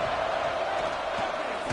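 Football stadium crowd during a Terps college game swelling into a steady, loud roar as the defense digs in near the red zone, a dense wash of distant voices filling the whole short stretch.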